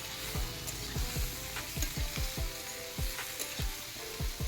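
Vegetables and spices sizzling in a pan on low heat while cooking a thin hilsa fish curry with ridge gourd and potato, a constant close frying hiss broken by regular scraping stirs of a spatula.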